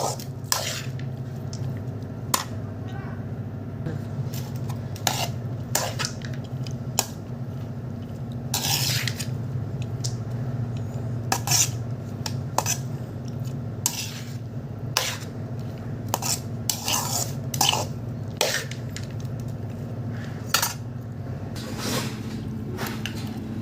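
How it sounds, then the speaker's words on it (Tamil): Lemon rice being stirred in a pan with a spoon after sesame oil is mixed in, giving repeated short scraping and clinking taps over a steady low background hum, close and moderately loud, with no talking. "நல்லா கிளறி விட்டுக்கோங்க சாதம் உடையாமல் பார்த்துக்கோங்க"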